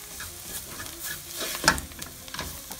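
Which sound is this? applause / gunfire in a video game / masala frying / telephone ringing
masala frying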